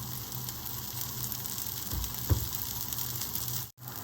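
Oil poured onto a wheat rava dosa on a hot pan sets off a steady, close hiss of sizzling that runs unbroken, with one brief bump near the end.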